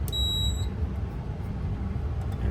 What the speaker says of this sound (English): Fast enough before the annunciator starts beeping